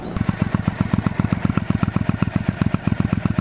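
A Triumph America motorcycle in Cardinal Red idles nearby with a rapid, even chug of regular exhaust pulses. The beat is moderately loud and continuous throughout.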